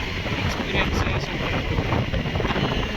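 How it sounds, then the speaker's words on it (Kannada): Strong wind rushes across the microphone outdoors, a dense, constant roar that rises and falls slightly throughout, with a faint voice beneath it. "ಗಾಳಿ."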